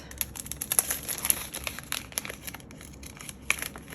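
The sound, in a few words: tearing open paper envelopes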